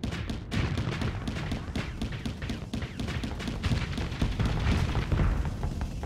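Rocket weapons firing from a spaceship in the space combat game Starsector, a dense run of booming thuds and bursts overlapping one another, loud and continuous throughout with no pauses.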